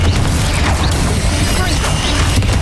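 Loud, dense Confringo fire-blast spell explosion in Hogwarts Legacy, a continuous booming roar with crackling bursts throughout, close and full, with no clear voices on top.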